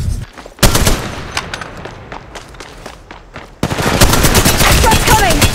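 Automatic gunfire rattles out in rapid bursts during a match of Apex Legends Mobile in Kings Canyon, loud and close, with a dense, sustained burst of fire near the end.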